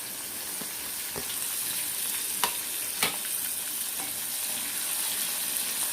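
Onions frying in a pan crackle with a steady close sizzle, broken by a few sharp scraping taps of a spoon stirring at irregular intervals.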